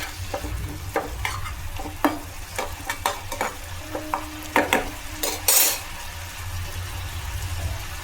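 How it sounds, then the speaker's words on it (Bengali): Shrimp frying in a frying pan, with a steady sizzle broken by repeated scraping stirs and clattering taps of a utensil against the pan, plus one brief surge of hiss. "মোচা চিংড়ি মাছটা একটু ভেজে নিচ্ছি ফ্রাই প্যানে দিয়ে"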